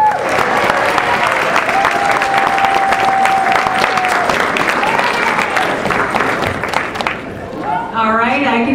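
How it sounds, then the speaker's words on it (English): Audience at a WCF event gives sustained, loud applause with cheering for Sam, a dense wash of clapping that carries nearly unbroken for about seven seconds, then thins as a voice and crowd chatter come through near the end. "A big round of applause for Sam."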